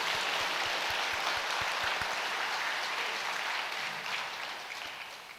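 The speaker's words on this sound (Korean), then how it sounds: "하나님께 영광의 박수 올립니다." A church congregation at a Sunday service claps together, a dense steady patter of many hands that fills the room and gradually fades toward the end, with no voices over it.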